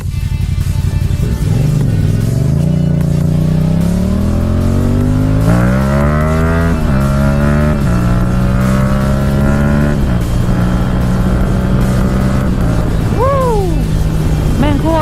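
A Yamaha MT-07 motorcycle accelerates hard from a launch on an evening road ride. Its loud, close engine note climbs steadily in pitch, drops briefly at each gear change, and then rises again.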